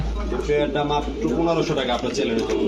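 Large Sirajee pigeons coo in soft, low rolling calls, close by and under ongoing talk from people.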